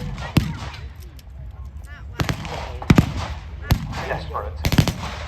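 Battle reenactment gunfire with mortars being deployed in historic England: four sharp blasts ring out at irregular intervals over a steady outdoor rumble, with faint voices between them.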